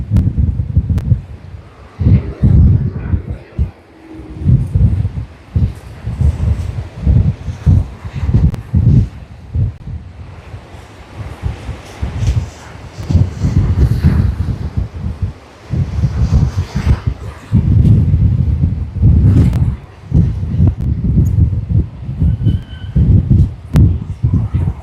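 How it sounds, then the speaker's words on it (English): Strong gusting wind at Sydney Airport buffets the microphone in loud, rumbling bursts that rise and fall irregularly, with brief lulls between the gusts. "The wind is picking up again."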